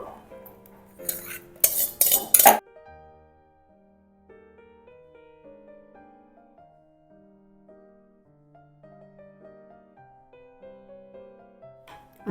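A metal utensil clatters and scrapes rapidly against a bowl while persimmon jelly is mixed into puree, a brief loud burst of clinks, followed by quiet soft background music.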